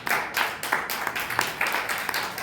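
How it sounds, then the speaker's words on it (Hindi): A church congregation claps in a steady, brisk rhythm during worship, the sharp claps repeating evenly at close range with a busy room around them. "ताली बजा के हम प्रभु के नाम को गाते हैं"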